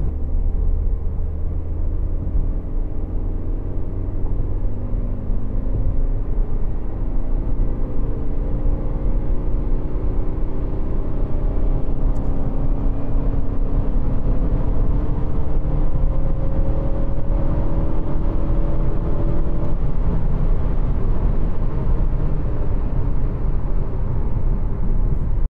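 A Lada Vesta fitted with a sport air intake pulls hard in fourth gear, its engine drone loud and steady throughout with a rising, sweeping pitch as revs climb, a constant close rumble with no talk over it.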